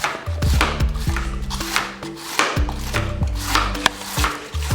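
A knife chops through red cabbage on a cutting board in repeated downward strokes, giving a run of crisp, crunchy cuts and knocks on the board.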